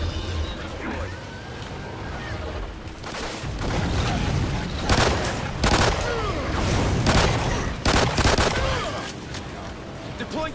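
Explosive rounds fired in Call of Duty Ghosts Extinction: a dense, continuous fusillade of loud, close bursts and booming impacts over about ten seconds, with a faint voice briefly underneath.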